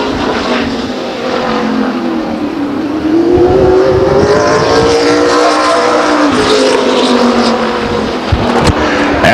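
Race cars lap the short oval at Stockton 99 Speedway during an SRL event, their engines a loud, continuous roar with rising and falling pitch sweeps as the cars pass close by, with no voices.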